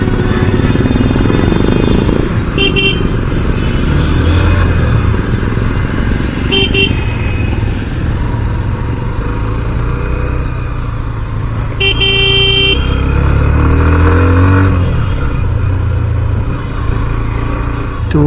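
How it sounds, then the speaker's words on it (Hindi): A Hero Xtreme 125R 2024 with ABS rides along under a steady, loud engine and exhaust drone, with several short horn-like bursts from nearby traffic, no talking. "वो जो एग्जॉस्ट है ना वो ज़्यादा हल्ला मचाता है"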